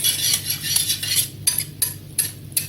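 Spinach and lardon tart filling being mixed with egg, a utensil clinking and scraping against a bowl in a steady run of light strokes, close and fairly loud, with no talking.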